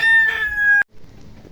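A rooster crows loudly and close at a Philippine chicken farm, one sustained call that cuts off abruptly, leaving faint ambient farm noise.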